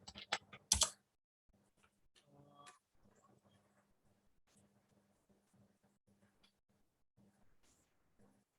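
A computer keyboard clicks in a quiet room as a sample letter is typed in MS Word, light steady keystrokes after a louder burst of clatter at the start.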